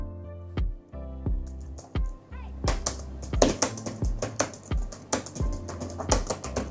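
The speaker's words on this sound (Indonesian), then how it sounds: "jadi pakai ngetik tuh nggak salah pencet gitu ya" Keys on a 13-inch Chromebook keyboard being typed on, giving close, crisp, irregular clicks and taps in short bursts over a low steady hum.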